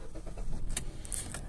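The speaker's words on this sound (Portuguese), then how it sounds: "E daí agora você vai girar de novo a chave até a partida." A car engine cranks and starts as the ignition key is turned during a driving-school lesson, a loud, steady running rumble following a short burst of starter noise, with no talk over it.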